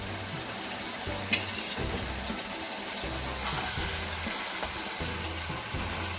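Chicken frying and sizzling in oil in a pan while cooking biryani, with a steady crackle throughout, a sharp clink near the start and intermittent low rumbling beneath.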